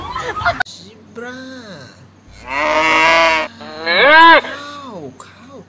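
Drawn-out, harmonic cow moos sound loud and near, two long calls with rising and falling pitch, separated by brief pauses, amid a child playing with plastic animal toys.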